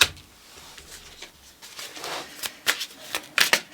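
Tarot cards being shuffled by hand, a run of soft riffling and papery flicks that grows into sharper, louder bursts toward the end, close to the microphone with no talk.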